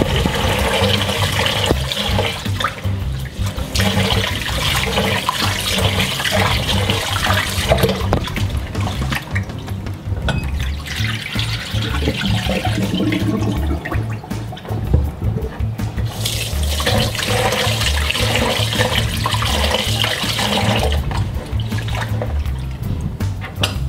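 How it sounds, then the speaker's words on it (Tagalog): Tap water runs and splashes steadily while glutinous rice is washed for suman sa lihiya, a loud continuous rush with sloshing and trickling throughout, no voices heard. "Una natin gagawin ay huhugasan muna natin yung ating glutinous rice o yung malagkit."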